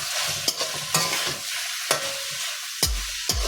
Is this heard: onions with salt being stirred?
yes